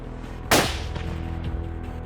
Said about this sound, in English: Finally, I took the shot.